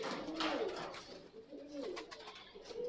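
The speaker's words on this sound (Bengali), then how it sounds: "এই পায়রাটা আমাদের উল্লাসের পায়রা।" Pakistani giribaz pigeons cooing close by, with a run of soft, rolling coos that overlap one another and some higher chirps, continuing for about three seconds with no talking.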